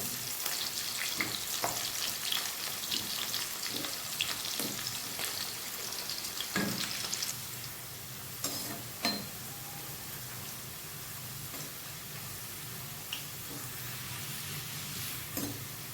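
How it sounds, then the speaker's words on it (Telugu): Bitter gourd pieces fry in hot oil to a brown color, giving a steady close sizzle with occasional stirring scrapes and faint utensil clinks against the pan, no talk. "కాకరకాయ ముక్కలు అయితే మంచి బ్రౌన్ కలర్ వచ్చే వరకు ఫ్రై చేసుకోవాలి ఆయిల్లో"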